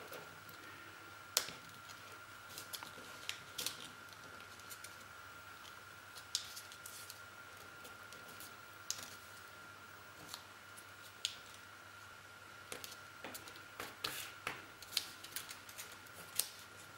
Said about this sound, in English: fold this part, this edge, to the center line here